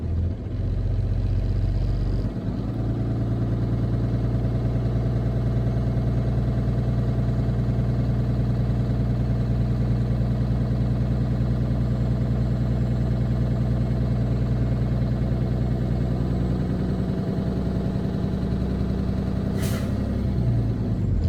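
A truck engine holds at raised revs to rebuild air brake pressure, producing a loud, steady low drone that runs unbroken for about twenty seconds, with a brief sharp hiss near the end.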